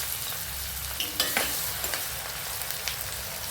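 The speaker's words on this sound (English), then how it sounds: "Fry until onions looks this golden" Chopped onions frying in hot oil in a pan for egg curry, a steady close sizzle with a few louder crackles and stirring scrapes.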